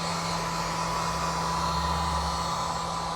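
Heat gun warming glue on Mazdaspeed 3 car trim, a steady close-up blowing roar with a constant hum, no other sounds.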